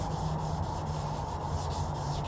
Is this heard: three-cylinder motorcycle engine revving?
no